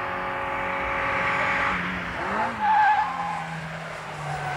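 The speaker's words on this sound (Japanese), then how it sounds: "トップからセカンドまで落として第1ヘアピンを回る。" A Honda City CZ-i race car, competing against a Suzuki Swift GT-i, downshifts from top to second gear into a hairpin at the bottom of a downhill straight. Engine pitch drops and climbs again as the tires squeal and skid loudly.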